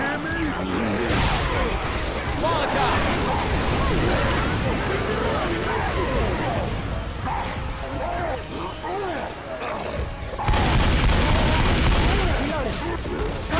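Gunfire from several players shooting at the Tank in Left 4 Dead 2 on the Cold Stream campaign, dense rapid bursts and overlapping shots that run continuously and grow louder near the end.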